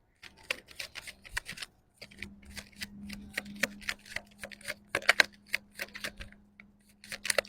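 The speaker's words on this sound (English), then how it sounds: "after I stop shuffling" Tarot cards being shuffled by hand, a run of crisp, quick riffling clicks and snaps in uneven bursts, close and fairly quiet, with a faint low hum beneath.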